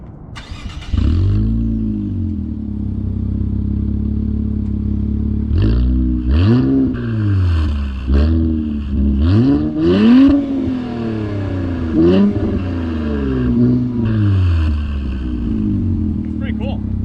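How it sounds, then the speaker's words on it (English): A 2021 Infiniti Q50 400 Red Sport fires up close by, settles into a steady idle, then its exhaust barks through a series of sharp throttle blips and revs before dropping back to idle. "we'll get a little exhaust clip"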